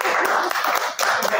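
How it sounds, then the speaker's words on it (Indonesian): An Islamic podcast audience applauds in a short, dense burst of clapping that briefly dips near the middle, with a voice faintly underneath. "Tepuk tangan kita semua orang Islam."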